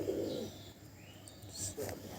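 High-flying tumbler pigeons in a loft give low, soft coos, with a brief murmur at the start and another coo near the end over a faint background hum.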